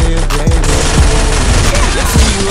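Rapid automatic gunfire rattles in a ranked Free Fire match, loud and close, with bursts of shots and low booms piling up over a couple of seconds.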